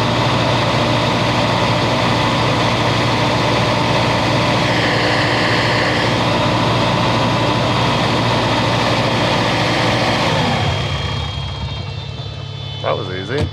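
A truck engine idles with a constant loud, dense rumble that drops away near the end, leaving quieter background sound.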